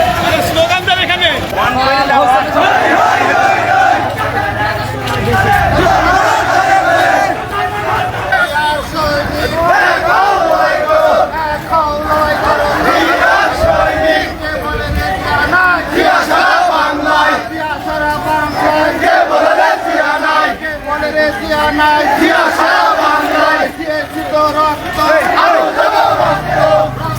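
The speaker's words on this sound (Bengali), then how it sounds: "স্লোগান দেন এখানে।" Crowd chanting political slogans at a BNP party procession in Bamondi, Gangni, a dense, loud mass of rhythmic voices shouting in unison, continuous and close with rising and falling surges of chant.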